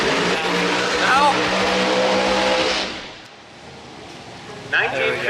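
A 1953 Studebaker pulled from a junkyard races down a dragway, its loud engine roar sustained for about three seconds before fading away, then a brief burst of noise returns near the end; crowd chatter is mixed in.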